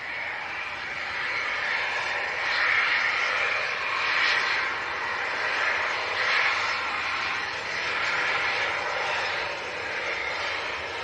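A Ryanair Boeing 737-800 taking off at Leeds Bradford Airport produces a sustained, broad jet roar from a moderate distance that swells and ebbs slightly without fading.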